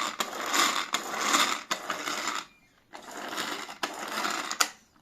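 A repaired Tupperware blender with a replaced drive rope runs steadily in loud whirring bursts, cutting off briefly for a near-silent pause before starting up again, with no voices present.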